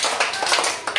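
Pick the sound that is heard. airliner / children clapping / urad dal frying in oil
children clapping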